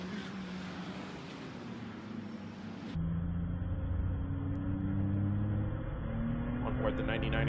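A race car at a Daytona endurance event gives a steady, droning engine note that changes abruptly partway through, settling into a lower, rumbling tone. It plays continuously under faint broadcast background.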